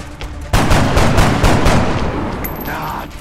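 A loud burst of rapid gunfire rings out in the video game XCOM: Enemy Unknown, dense repeated shots after a short quiet lead-in, then trailing off toward the end.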